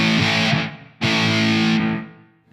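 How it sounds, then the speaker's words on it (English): Two heavily distorted electric guitar chords played through an iRig interface, each struck loudly and left ringing with a fuzzy, saturated sustain before fading. "take off that distortion"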